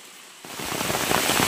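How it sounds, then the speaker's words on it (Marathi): Rain begins falling outdoors in a village, a sudden steady hiss of drops that starts abruptly after a moment of near silence and grows gradually louder. "घरातून बाहेर आलं की पाऊस सुरू."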